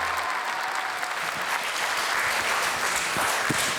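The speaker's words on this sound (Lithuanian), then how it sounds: "Čia jums plojimai" Studio audience applause at an X Factor Lithuania 2015 talent show taping, dense steady clapping filling the room for the whole stretch with no voices.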